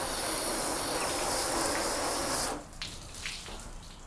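Water runs and sheets off a sealant-coated car panel as a steady bright hiss, then cuts off abruptly, leaving a few trailing drips and splashes.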